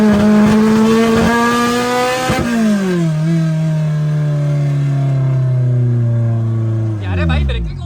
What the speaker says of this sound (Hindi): माशाल्लाह से गाड़ी पहले के निस्बत बहुत अच्छा भाग रही है